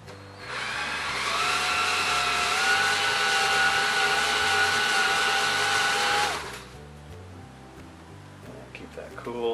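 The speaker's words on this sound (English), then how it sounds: "We're just drilling our guide holes first." A power drill with a small bit whines steadily at close range for about six seconds, drilling guide holes for a wire mesh gate, its pitch rising slightly, then stops, leaving quieter background noise.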